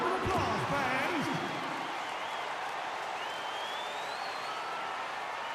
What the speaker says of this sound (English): Give them a round of applause, fans.